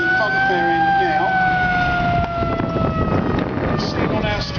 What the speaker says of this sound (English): So the 101 ambulance there, just rolling into the arena at the funfair end now.